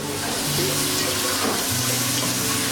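Poultry browning in a pan at a cooking demonstration at an expo fair, a dense steady sizzle close by, with faint low hum and tonal background noise underneath.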